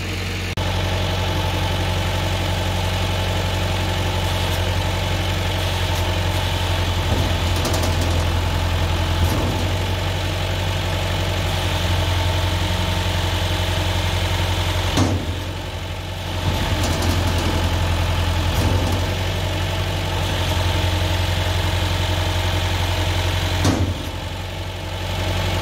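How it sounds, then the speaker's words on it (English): A hay baler runs behind a tractor, a loud steady engine drone with strong low hum and rhythmic mechanical thumps and brief dips, continuous for the whole stretch without speech. "Gonna see if the baler does what it's supposed to."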